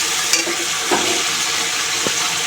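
Chicken curry with taro stirred in a pan, a steady sizzle and frying hiss with a few soft scraping knocks of the spoon, no voices.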